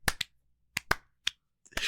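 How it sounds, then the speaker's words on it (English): A few people give a slow clap, sharp separate claps spaced irregularly with quiet gaps between, close and crisp, ending in a louder burst of noise. "Let's get a little slow clap going real quick"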